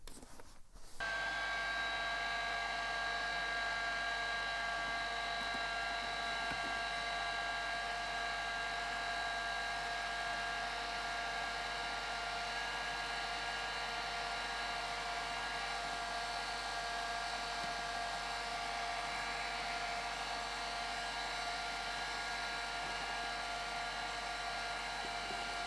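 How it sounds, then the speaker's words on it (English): Heat gun fixed on a stand, blowing to heat foam for a hat: a steady whirring blower hum with a high tonal whine switches on and runs continuously for over twenty seconds, fairly quiet and alone without speech. "We'll use the heat gun, but it's on a stand, so we have both hands that we can use."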